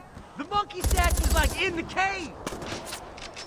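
Gunfire in the video game Far Cry 4 comes as a short rapid automatic burst of shots, with excited talk over it and around it.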